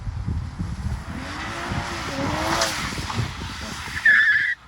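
A BMW M2 CS engine revs nearby as tires squeal briefly, breaking traction, with a sharp high screech near the end.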